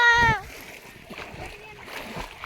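Water splashes in a large farm pond where someone is swimming, one loud burst at the start alongside a shout, then softer sloshing and faint voices.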